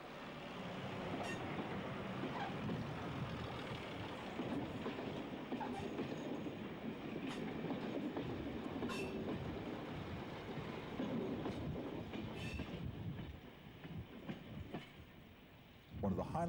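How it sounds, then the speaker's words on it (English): A Class 104 and Class 108 diesel multiple unit pulls away on a UK branch line, a steady rumbling roll with faint rail clatter and occasional squeals, heard from trackside at a moderate distance. "we see this Class 104 and 108 DMU departing towards Glendiffry"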